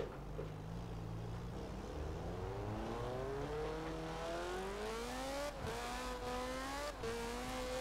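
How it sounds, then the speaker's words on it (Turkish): An old car's engine revving in Forza Horizon 4, a steady loud drone that climbs in pitch as the throttle opens, with a couple of brief dips near the end as gears shift. "Şöyle bir gazına da basalım."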